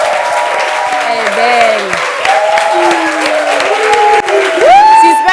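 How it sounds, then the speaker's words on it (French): A television studio audience applauds a guest being introduced on a talk show set, with steady clapping throughout and a presenter speaking over it. "On applaudit pour elle, s'il vous plaît."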